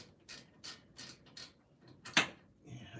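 A broken torque wrench turns 14 mm bolts during a front brake job on a 2002 Toyota RAV4, giving several quick ratcheting bursts in a loose rhythm, then one sharper, louder click close by.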